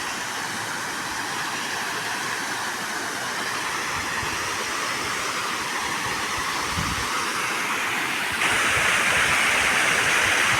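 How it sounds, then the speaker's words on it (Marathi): Water pouring steadily through a weir beside a village fishing spot, a loud continuous broadband rush that swells noticeably stronger in the last couple of seconds. "येथे पाण्याचा सुद्धा बराच आवाज येत आहे तर किट्टी वेअरमधून आता सध्या पाणी चालू आहे"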